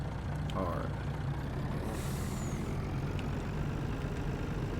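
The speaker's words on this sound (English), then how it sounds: "You can feel the weight in this truck." A heavily loaded truck's engine runs with a steady, close, low rumble and drone that holds evenly throughout, with no clear change in pitch.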